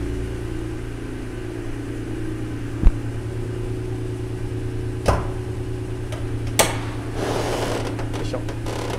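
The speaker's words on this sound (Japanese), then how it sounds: "ちょっと今スペアタイヤ外してますけども" A spare tire is taken out of a later-model Honda NSX 3.0 with a six-speed swap and aftermarket 18-inch wheels: three sharp metallic clunks spaced a few seconds apart over a steady low hum.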